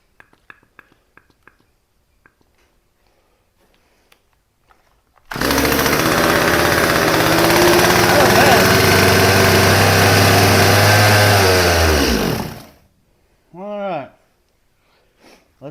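A Stihl chainsaw starts after carburetor tuning with a little fuel added, its small two-stroke engine roaring loudly and steadily up close for about seven seconds before dying, then a short revving burst follows after a few faint clicks.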